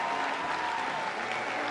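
A large crowd at CPAC 2022 in Florida applauds a speech, a dense, steady roar of clapping heard up close with no speech over it.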